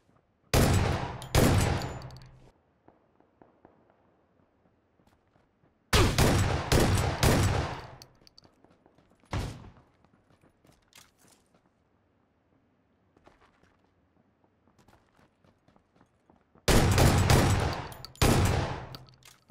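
Video game gunfire from a shotgun and an SKS rifle comes in three loud, close bursts of rapid shots, plus a single shot between them, separated by near silence.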